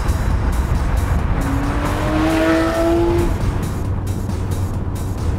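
A Porsche 997 GT3 RS engine winds up through loud, rising revs toward its 8200 rpm limit, heard from the cabin over a constant heavy drive roar.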